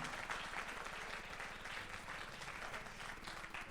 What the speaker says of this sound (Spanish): alguien que le dé un aplauso al Señor